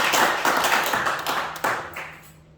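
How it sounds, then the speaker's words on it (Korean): A small audience claps in a brief, uneven burst of a few distinct hand claps that thin out and fade to quiet within a couple of seconds. "이 자리에 안 계시지만 그분한테 박수 한번 주세요"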